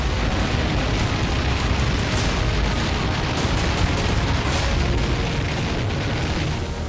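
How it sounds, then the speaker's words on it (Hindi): A dense, continuous roar of distant blasts and rumbling booms from explosions across Kyiv during a Russian attack, blending into one steady wall of noise, with no voices. "यूक्रेन की राजधानी में जगह जगह धमाके हो रहे हैं।"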